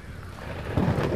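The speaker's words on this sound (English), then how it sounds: "Oh, it's fucking raining." Steady rainfall in a virtual reality game with a low rolling rumble of thunder swelling near the end, no voices.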